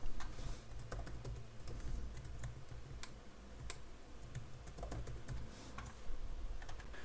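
Text being typed on a computer keyboard: soft, quiet key clicks in a quick, uneven rhythm that runs continuously, heard close up with no talking.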